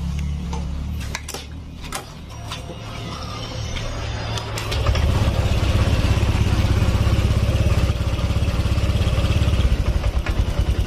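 Honda Vario Techno 125 scooter with a radiator that loses coolant, starting after a few light clicks and settling into a steady, close idle with a low, rapid, even pulse.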